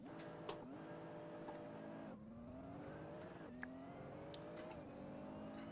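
Nissan GT-R engine in the racing game Assetto Corsa, a steady harmonic drone that dips and climbs in pitch several times as revs shift, continuous and fairly close with a few faint clicks.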